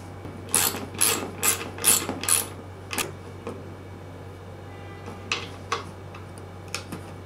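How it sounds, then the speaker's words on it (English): A 1/4 inch bolt is fastened through the vertical part of a base, giving a quick run of five loud ratchet clicks, then a few sparser, fainter clicks and ticks over a steady low hum. "Now I'm going to put a 1/4 inch bolt through the vertical part of the base."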